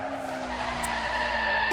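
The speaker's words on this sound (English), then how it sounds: "she does the same type of screeching halt that the other one did" Car tires screech in a fast, hard stop, a loud, steady squeal that holds for nearly two seconds over a continuous engine and road roar.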